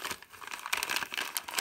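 Plastic orange netting bag crinkles and rustles as it is turned inside out, a busy run of close crackling sounds with quick bursts and no voices.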